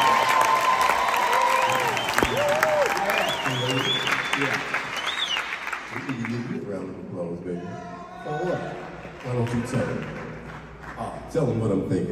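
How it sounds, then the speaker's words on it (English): A theater audience at a concert applauds and cheers loudly, with whistles cutting through the crowd noise, then the clapping thins as someone talks over the lingering applause. "So give yourself a round of applause."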